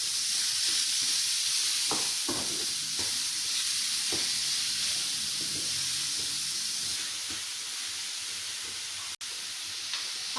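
Chopped chicken sizzling and hissing in a hot pan, a bright continuous fry with scattered scraping stirs from a utensil, close and steady with no talk.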